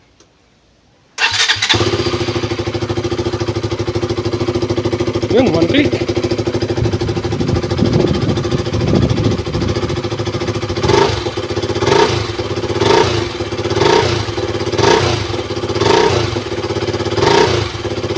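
A KTM Duke 200 motorcycle with a fuel pump problem cranks and fires, then settles into a loud, close idle with repeated throttle blips; someone speaks briefly over it.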